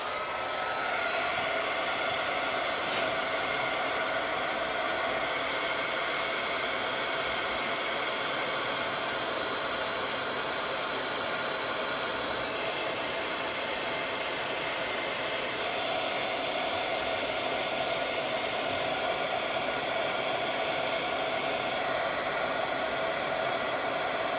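A heat embossing tool blows a steady, loud whooshing hiss while melting embossing powder on berry details of a Christmas card, running unbroken and alone throughout.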